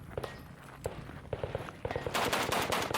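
Kalashnikov rifle fire at a shooting championship, with single shots at an uneven pace that become a faster burst of rapid shots near the end, muffled and at moderate distance.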